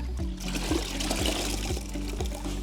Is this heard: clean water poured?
yes